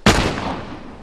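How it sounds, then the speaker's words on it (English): A single loud, close gunshot in The Last of Us fires with a sharp crack, and its boom rings out and decays slowly over about a second, with no talking. "Where the hell are you shooting from?"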